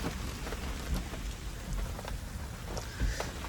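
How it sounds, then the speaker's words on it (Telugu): Steady rain pours down on an open market where a loaded lorry waits, a dense, even hiss of drops striking surfaces with occasional louder spatters and a low rumble underneath, no voices. "వర్షం అయితే పడుతుంది."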